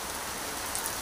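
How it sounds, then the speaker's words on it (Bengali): Heavy rain pours down in a dense, steady wash of noise, close and continuous with no voices over it. "কি বৃষ্টি যে হচ্ছে"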